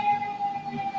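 A steady tonal wail from an emergency vehicle siren rises over the low rumble of downtown Westerly traffic, sustained throughout at moderate distance.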